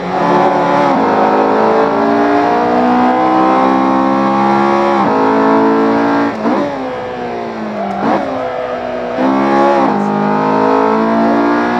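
A Honda Civic EP3 Type R racing around the Nurburgring in the sim game Assetto Corsa, its engine loud and close, revving high and climbing through the gears with several quick dips at the shifts, no talking.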